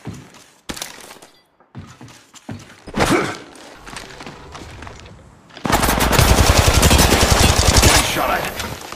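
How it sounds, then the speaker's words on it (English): Gunfire in the Apex Legends Mobile video game: scattered single shots and short bursts at first, then a sustained loud stream of rapid automatic fire. "Getting shot at."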